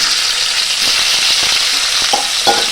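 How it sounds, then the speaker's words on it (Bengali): Potatoes fry loudly in oil left over from frying shrimp, a steady close sizzle with a few soft stirring knocks in the second half and no voices. "আমি ওই চিংড়ি মাছ ভাজা তেলেতেই আমি আলুগুলো ভেজে নেব।"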